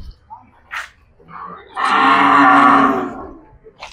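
A single long, loud moo from a local Madura cow in a large pen of jumbo-class cattle, with brief background voices and small sounds before and after.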